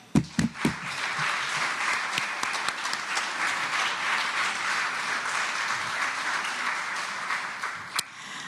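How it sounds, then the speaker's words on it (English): An audience applauds at a golden anniversary celebration, a few sharp individual claps at the start swelling into steady, full applause that holds for about eight seconds before one last distinct clap. "a round of applause"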